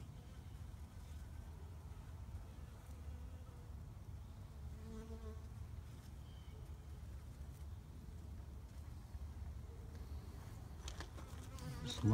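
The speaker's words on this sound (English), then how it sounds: "I guess it's called a white-faced hornet or a bald-faced hornet." A bald-faced hornet (white-faced hornet) buzzes steadily and close throughout, a continuous droning hum over low background rumble with no speech.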